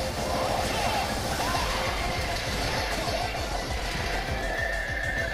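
A horse whinnies in Warriors Orochi 4 amid continuous galloping hoofbeats and battle noise, a dense, steady game soundscape throughout.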